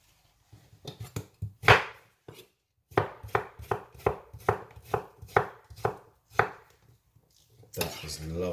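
Cucumber being chopped on a board for a detox salad, a run of crisp, close knife strikes in an uneven rhythm, some bunched quickly together, with short pauses between bursts.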